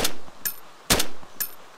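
Gunfire in the video game DayZ during a PvP fight in Cherno, with a few sharp, distinct shots spaced apart, moderately loud with short decaying tails and no talk over them.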